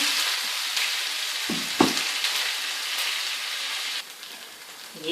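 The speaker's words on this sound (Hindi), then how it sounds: "अब इसको इसमें थोड़ा फ्राई करती हूँ।" Loud, steady sizzling of ginger and garlic frying in a hot pan, with a couple of stirring scrapes partway through.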